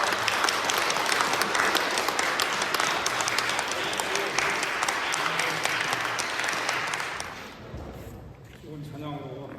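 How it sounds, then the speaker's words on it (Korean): A church congregation at a Sunday worship service applauds the choir, a dense, steady crowd clapping that fades out near the end as a voice begins speaking. "격려의 박수를 하도록 하겠습니다."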